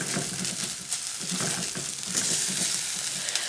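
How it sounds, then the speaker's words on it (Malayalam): Ginger frying in a pan for Kerala puli inchi, a continuous close sizzle with soft rhythmic scraping of stirring, no talk. "ഇത് നന്നായി ബ്രൗൺ കളർ ആവുന്നത് വരെ ഫ്രൈ ചെയ്തെടുക്കണം"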